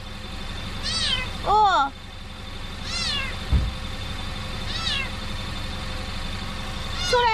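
A small kitten meows several times in short rising-falling cries, one sounding louder and harsher, close by over a low rumbling background; a person speaks briefly.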